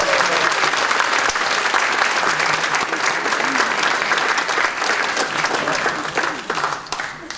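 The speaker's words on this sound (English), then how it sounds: "So let's give a big round of applause." A high school hall of fame crowd gives loud, continuous applause that stays full and steady throughout, thinning only slightly near the end.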